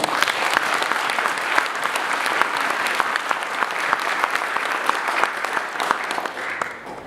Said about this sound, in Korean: 성기학 회장과 강석훈 교수께 큰 박수를 부탁드립니다.